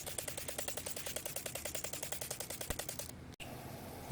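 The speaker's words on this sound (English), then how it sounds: "Now I'm going to spray liberally" Rapid, evenly spaced clicking pulses, about a dozen per second, from a spray bottle spraying cleaner on a portable air conditioner, stopping abruptly near the end.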